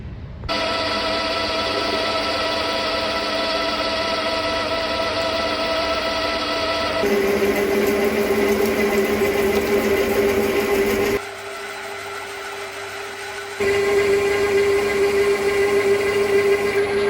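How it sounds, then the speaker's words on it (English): A milling machine drills and reams holes in a steam locomotive part, its motor whining loud and continuous from close range, with the tone shifting between steady stretches as the cutting changes and one short quieter gap. "I've had to change the drills a couple of times and put the reamer in to drill these and ream these in one position."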